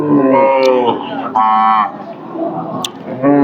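Loud, close cattle moos from cows at a cattle market in Amraid, Gazipur, several drawn-out calls separated by short gaps, with a busy market murmur underneath.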